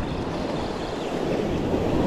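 Ocean waves break on a Florida beach during the mullet run, a continuous close rushing wash of surf that swells slightly louder toward the end, with no voices.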